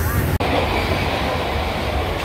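A train at Boisar station, a steady loud rumbling roar of rolling railcars close by, continuous for the whole stretch with one brief dropout near the start.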